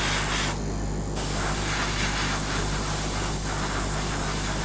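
A spray paint can hisses out a misting coat in loud, close bursts. A short pause breaks the hiss near the start, then the spraying resumes and runs steadily to the end.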